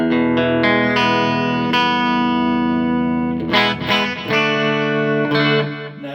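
Electric guitar on a clean setting through a Roland Micro Cube amp rings out in loud, sustained strummed chords that let notes ring and then change, with no talking.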